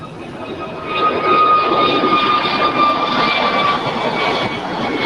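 A jet airliner takes off at LAX, its engine roar building from moderate to loud after the first second and holding as a steady, broad rumble with a faint whine.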